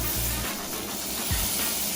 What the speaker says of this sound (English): Then you want to flip your steak and cook the other side.